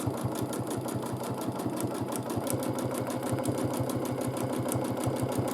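A domestic sewing machine runs steadily while free-motion quilting dense dot-to-dot lines with bright green thread on a large quilt, its needle clattering in a fast, even rhythm throughout, close and continuous.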